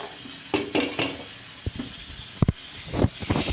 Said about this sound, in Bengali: চাল ডালটা দিয়ে এখন আমি ভালোভাবে নেড়ে চেড়ে ই করে ভাজা ভাজা করে নেব